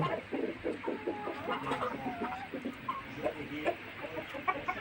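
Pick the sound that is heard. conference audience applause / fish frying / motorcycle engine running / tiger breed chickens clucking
tiger breed chickens clucking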